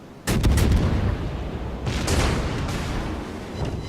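Warship cannon fire booms in World of Warships, a heavy close volley followed by a second salvo about two seconds later, both trailing into a long rumbling decay.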